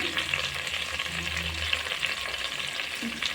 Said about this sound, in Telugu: కొంచెం బ్రౌన్ కలరు ఎరుపు రంగు వచ్చేంత వరకు ఫ్రై చేసుకోండి